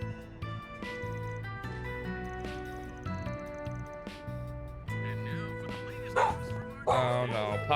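A dog whimpers and yips with short barks during fireworks, high whines rising over a steady background of music, growing more agitated toward the end.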